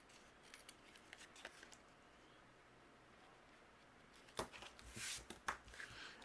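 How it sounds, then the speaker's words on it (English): Scissors snip the corners off a piece of cardstock at a craft table, with a few light, quiet cuts early on and then a closer cluster of crisp snips near the end, no talking. "and then trim away those corners"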